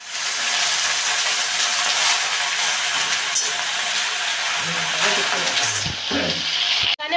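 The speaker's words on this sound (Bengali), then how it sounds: "এবার শাকগুলো দিয়ে একটু ভালো করে নেড়ে চেড়ে নিতে হবে।" Spinach with peas and a dried red chilli fries in a pan while being stirred, making a loud, steady hissing sizzle with soft scraping underneath.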